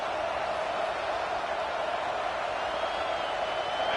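A football stadium crowd at Auburn roars as a broad, steady far-off wash of noise on a third down, with no single voices standing out.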